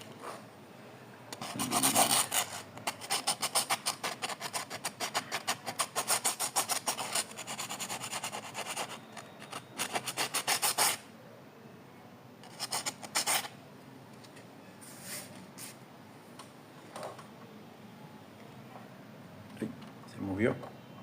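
A graphite pencil tip is rubbed on sandpaper, giving a close, rapid run of loud rasping strokes for about ten seconds, then sparser scattered scrapes, with someone talking in between.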